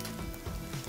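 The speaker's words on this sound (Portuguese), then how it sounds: "Nosso bacon tá fritando ali, gente." Bacon frying in a pan, a steady broadband sizzle with crackling texture, fairly close and continuous throughout.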